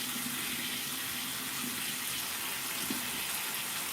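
Water runs steadily from a tap for hand washing before a facial skincare routine, a soft continuous hiss and splash heard alone and fairly quiet.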